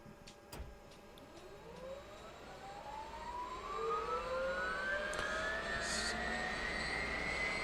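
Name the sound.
Huey helicopter starting up in Microsoft Flight Simulator 2024 video game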